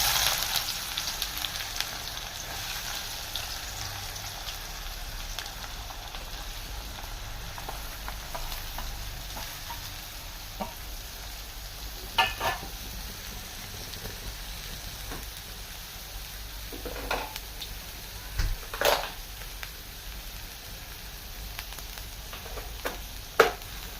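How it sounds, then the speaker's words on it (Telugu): Onions frying in hot oil in a kadai, giving a steady close sizzle and crackle throughout with a few sharper pops and spatters scattered along the way. "ఆయిల్ హీట్ ఎక్కిన తర్వాత ఇప్పుడు ఆనియన్స్ వేసుకోవాలి"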